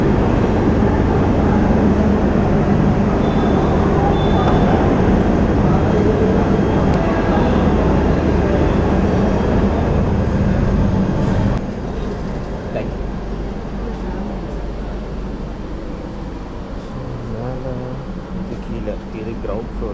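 Chennai Central to KSR Bengaluru double decker express train running, a steady loud rumble of the moving coaches throughout, with voices talking over it.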